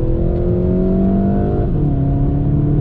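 2020 VW Golf GTI accelerating on throttle in second gear, heard inside the cabin: loud engine drone rising steadily in pitch, a quick shift, then climbing again.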